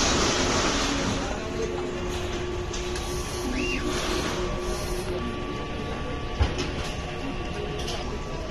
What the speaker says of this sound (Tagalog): Ganito naman mag-nozzle check.